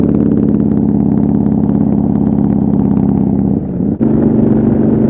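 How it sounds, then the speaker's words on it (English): Motorcycle exhaust drones steadily, heard from inside a Sena Momentum Pro helmet while riding, a continuous mid-pitched engine hum with a short dip near the end before it resumes. "I can hear the exhaust on the bike"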